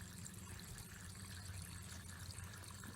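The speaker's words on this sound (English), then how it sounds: "you can hear the water part starting to come." Water begins to flow in a small solar-powered miniature waterfall on a timer, a soft continuous trickle with a low steady hum beneath it, faint and close.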